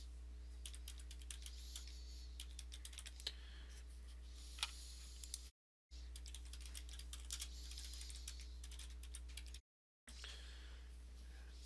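Someone types on a computer keyboard, with quick, close, light key clicks in steady bursts and two brief silent gaps, over a low steady hum.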